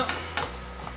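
Shallots frying in a pan, a soft close sizzle with a couple of quick stirring clicks over about a second.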